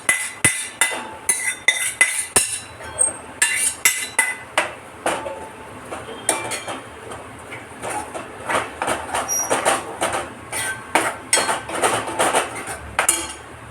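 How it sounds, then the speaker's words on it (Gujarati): Dense metallic scraping and clinking of a spoon stirring mohan thal mixture with sugar syrup in a pan, rapid irregular strokes continuing steadily throughout, close and fairly loud. "હવે 2 થી 5 મિનિટ માટે જ એને હલાવી દઈશું."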